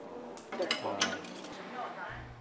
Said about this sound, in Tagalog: Pero sa paghuhugas ng mga baso at pinggan, mukhang eksperto na si Rachel.